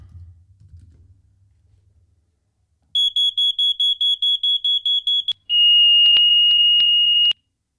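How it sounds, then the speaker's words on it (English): A smoke alarm sound effect gives a run of about ten quick, evenly spaced shrill beeps, then one long continuous piercing tone, following a brief low rumble and near silence. "smoke alarm."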